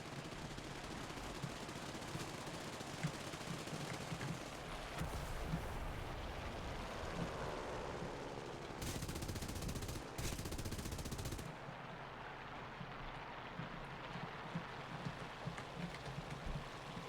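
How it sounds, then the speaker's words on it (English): Machine guns rattle in a War Thunder battle, quiet, rapid bursts of gunfire running throughout with a couple of louder stretches near the middle. "These guns are terrible."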